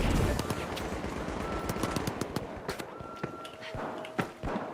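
Rapid automated turret gunfire in a shooter game, a dense stream of sharp cracks with scattered footsteps and a few louder shots near the end, moderately loud throughout.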